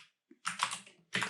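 Typing on a computer keyboard, a few quick close key clicks in short bursts with brief silent gaps between them.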